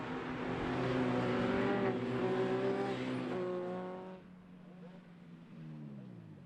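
Mini Cooper race cars at Knockhill Racing Circuit during a Celtic Speed Mini Cooper Cup race, their engines droning and whining at a steady pitch before fading, heard at moderate distance and fairly faint.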